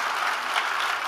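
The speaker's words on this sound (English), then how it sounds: "let's give her a round of applause for courage" An audience applauds a woman on stage at an entrepreneurship talk, a dense, steady wash of clapping that holds at an even level throughout the short burst.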